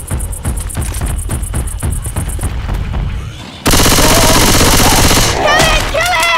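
Rapid video-game gunfire aimed at the Tank in Left 4 Dead 2: a steady automatic rattle with shouted voices gives way to a louder, dense burst of shooting, with sharp rising effect tones near the end.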